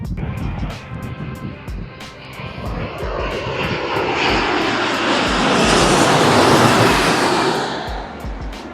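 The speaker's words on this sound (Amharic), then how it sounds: "አውሮፕላን እየመጣ ነው።" A passenger airplane passes at Frankfurt airport, its jet roar building to a loud, broad rush near the end before easing slightly, with gusty wind and faint background noise underneath.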